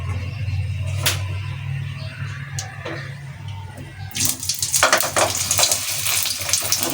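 Capsicums stuffed with spice masala fry in hot oil, giving a steady close sizzle with a few sharp clicks early on, then a louder, busier crackle that swells about halfway through and continues.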